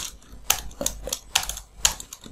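Keys on a computer keyboard clack in an uneven rhythm of distinct, crisp strikes, close and clear with no talking, while text is typed into a form.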